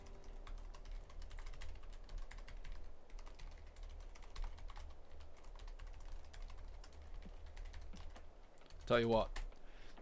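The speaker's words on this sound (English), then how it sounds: "typing on this new keyboard" Steady, rapid keyboard typing runs throughout at close range, a dense patter of small clicks with no pauses, joined by a brief louder knock near the end.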